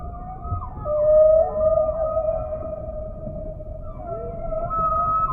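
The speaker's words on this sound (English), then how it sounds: "The whales in different oceans have different songs." A whale sings in the South Pacific, long drawn-out tonal moans that bend and slide over a low ocean rumble, loud and unbroken with no talk.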